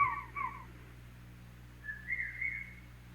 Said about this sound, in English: There was a whistle, and the hunter whistled back.